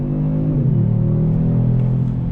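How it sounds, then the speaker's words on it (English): A 2021 Kia Stinger GT AWD's twin-turbo V6 pulls hard under throttle, a loud steady engine drone whose pitch drops briefly at a downshift then climbs again, heard close from inside the car. "we're going to see what this twin-turbo V6 is all about. On throttle, here we go"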